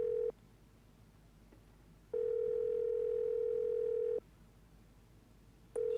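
A steady telephone dial tone in the horror game The Evil Inside, sounding in a long clear stretch between brief bursts, with quiet background hum and no talk.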